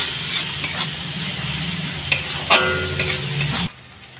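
Onions frying in a pan for a Bengali shol fish kalia, a dense sizzle broken by a few sharp spoon scrapes and taps, close and fairly loud, stopping abruptly near the end.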